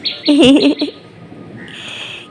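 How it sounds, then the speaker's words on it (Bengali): A small bird calls with thin, high chirps, faint and somewhat distant, after a brief voiced sound near the start, over quiet outdoor background by a waterlogged road after a night of rain. "ছোট্ট পাখি ডাকছে,"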